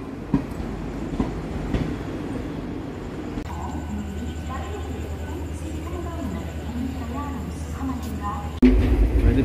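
Heard from on board a passenger train bound for Basara, a steady rumbling carriage with a low droning hum sets in, then a louder jolt comes near the end, with muffled voices in the background.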